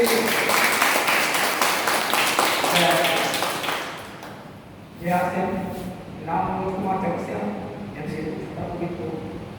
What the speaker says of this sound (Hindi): तो इस तरह का गुरुदेव से जोरदार ताली होना चाहिए